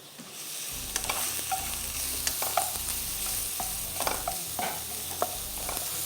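Ginger and garlic stir-fry in hot oil in a wok on high heat, a steady sizzle broken by scraping and clinking strokes of a spatula, close and moderately loud with no talking.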